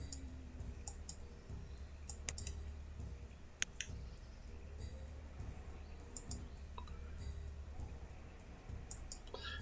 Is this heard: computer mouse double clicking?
yes